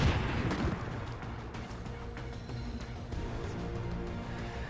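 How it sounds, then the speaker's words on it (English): A grenade blast in the turn-based tactics game XCOM 2 erupts with a loud opening burst and then settles into a sustained low rumble and crackle of debris, with no voices over it. "this guy takes another grenade to the face"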